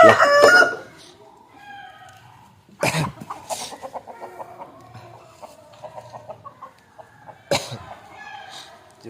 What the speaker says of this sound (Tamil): கூட்டுக்குள்ளே ஒரு கோழி இருக்கும் ப்ரோ